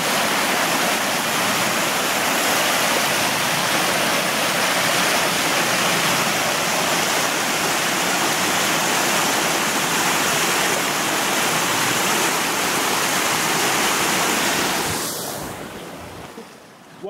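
Spring water at Mevo'ot Yericho rushes steadily over stepped channels, a loud, unbroken close wash of flowing water that fills the scene for about fifteen seconds before cutting away to quiet.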